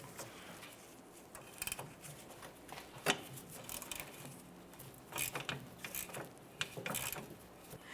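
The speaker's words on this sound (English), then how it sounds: "I have a ratcheting wrench, 14mm, and I have my ratchet at the end here" A 14mm ratcheting wrench turns the mounting nut on a rear sway bar link of a 2014–2018 Mazda 3, giving quiet, irregular bursts of clicking pawl sounds and metallic scraping, close and alone without talk.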